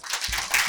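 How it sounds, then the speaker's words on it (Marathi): Brief burst of audience applause at a class held in N2 CIDCO, dense clapping rising quickly and holding steady for under a second. "टाळ्या."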